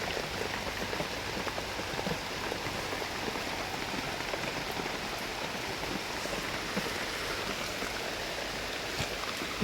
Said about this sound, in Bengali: মোটামুটি জোরেই বৃষ্টি হচ্ছে।